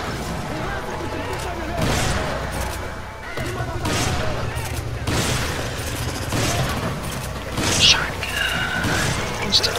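Shotgun blasts and gunfire in Resident Evil 5, several sharp bursts scattered across a busy game mix with talk over them.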